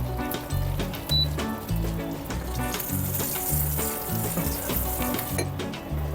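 Mustard seeds, cumin, curry leaves and asafoetida sizzle in hot oil as a tempering for a radish pickle, giving a steady, close crackling hiss with no voices.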